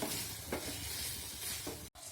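Pointed gourd fried with spices in a pan gives a soft, steady sizzle with a few spoon stirs, quiet and close with no voices.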